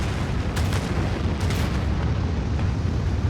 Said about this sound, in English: Nuclear missile. Fire.